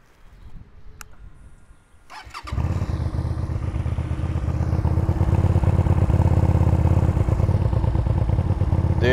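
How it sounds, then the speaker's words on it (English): The liquid-cooled V-twin of a QJ Motors SRV 300 motorcycle starts after a few clicks and quiet rustling, then settles into a loud, steady, close burbling idle that grows slightly fuller as it runs. "This is a liquid-cooled V-twin engine that burbles like an air-cooled one."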